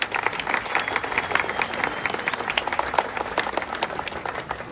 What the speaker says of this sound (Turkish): şöyle çok kuvvetli bir destek alkışı rica ediyorum sizden